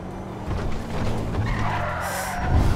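A motorcycle skids in Grand Theft Auto V, a gritty scraping screech over a rumbling engine that builds and swells toward the end, loud and close.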